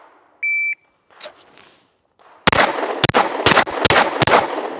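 A shot timer beeps once, then a pistol in a timed cold start shooting drill fires five loud sharp shots in fairly quick succession, each reverberating outdoors.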